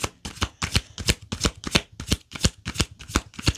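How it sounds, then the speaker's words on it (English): Tarot cards being shuffled during a reading, in about ten evenly spaced, crisp riffling bursts, close and clear with no voice over them. "Let's get a couple more cards and see."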